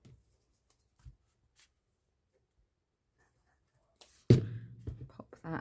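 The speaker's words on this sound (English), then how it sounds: "I think I'm going to cut that bit off first. These aren't the greatest scissors to be using." Household scissors snip through recycled material for a homemade folder, a few faint cuts early on, then a louder burst of cutting and rustling near the end, close by and with no talk.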